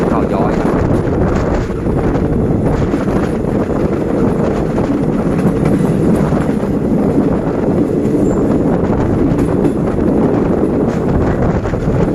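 On board train 261 as it enters the Khao Yoi station yard, a loud continuous rumble of the moving train with heavy wind buffeting against the microphone throughout.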